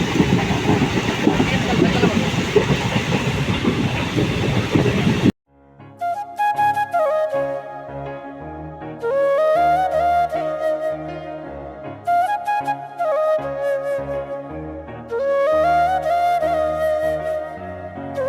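A train near Udaipur, Tripura rumbles with a loud, steady roar for about five seconds, and then music cuts in and carries the rest.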